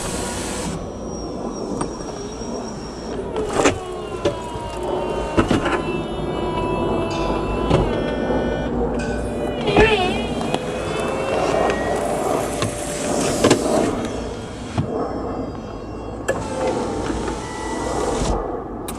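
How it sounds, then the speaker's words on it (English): A 2016 Aston Martin DB9 GT Volante convertible lowers its power soft top with a steady electric motor whir, punctuated by mechanical clicks and clunks as the roof folds, close and without talk. "So before we begin, we'll go ahead and put the top down."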